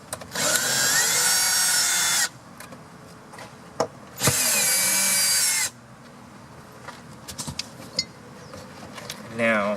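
A power screwdriver backs screws out of a 1982-1992 Firebird Trans Am T-top weather strip in two loud whirring bursts, followed by quieter clicks and handling noises, with talk in the background.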